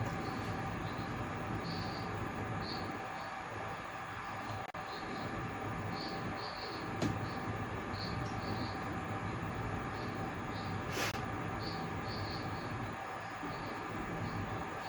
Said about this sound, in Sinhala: බඩු කරන් යන එක ට්‍රේන් එකක් වැඩ කරනවා මේ ටනල් එක හරහා යනවා